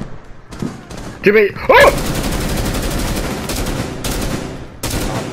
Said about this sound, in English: Got shots fired.